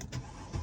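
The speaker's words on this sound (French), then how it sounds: "On va démarrer le véhicule." A Mercedes M-Class W164 being repaired for a fault with power loss is started, giving a short cranking whir that catches near the end, heard close and alone.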